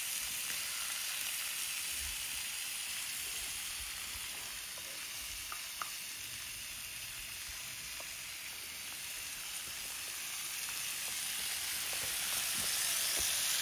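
Pork belly sizzles and fries steadily as it grills over a fire, a continuous close hiss with faint crackles and pops and no talking.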